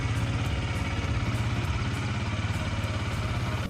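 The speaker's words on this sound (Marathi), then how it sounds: "आपण आपली गाडी तयार करूया आणि मस्त पोल स्टार्ट करून देऊया" A motorcycle engine idles steadily up close, its low, regular thumping pulses running the whole time at an even, loud level with no one speaking.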